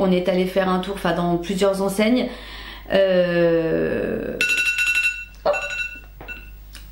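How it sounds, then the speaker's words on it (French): A phone alarm chimes in bright, repeating electronic beeps that start partway through and come in short bursts, first following someone speaking French and then sounding alone. "Désolée, c'était mon alarme."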